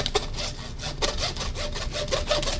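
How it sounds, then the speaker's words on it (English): Hand saw cutting through the sternum of a whole heritage-breed pig carcass, with steady back-and-forth rasping strokes, close and moderately loud, and no talking. "It's easier to saw it when it's attached to something."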